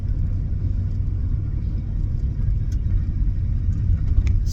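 An old Chevrolet plow truck drives down the road, its engine a steady, close, low rumble inside the cab with no talking.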